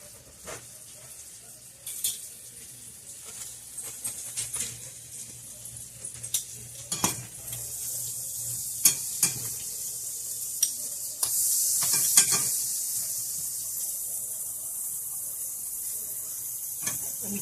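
Bread rolls for Cuban sandwiches toast on a hot pan with a soft, steady sizzle and hiss, broken by sharp spatula scrapes and clinks. A brief murmur of speech sits faintly underneath.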